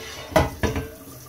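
An old unmarked cast iron griddle is rinsed under running water, giving two sharp clanks of metal on a sink about a quarter second apart, with a soft wash of water behind them.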